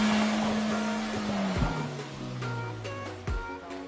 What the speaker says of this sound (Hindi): इस क्लिप में हम एकोस्पोर्ट को गहरे स्लश को पार करते हुए देखेंगे।